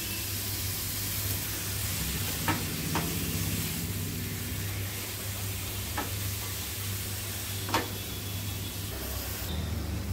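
Brinjal and tomato pieces frying in a pan, a continuous even sizzle with a few sharp scraping knocks of stirring, no talking.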